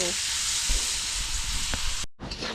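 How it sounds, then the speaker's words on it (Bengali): Ridge gourd (chichinga) frying in a pan, a loud continuous close sizzle with a couple of stirring knocks, cutting out briefly near the end before the sizzle resumes. "এইভাবে এখন ভাজতে হবে"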